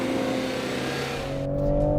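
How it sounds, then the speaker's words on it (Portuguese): A Toyota GR Supra A90 with its 340 hp inline six-cylinder engine drives hard on the Jarama circuit, a loud steady engine drone with harmonics that shift upward as it revs. "Os 340 cavalos do motor de 6 cilindros em linha sentem-se muito, principalmente a baixa rotação"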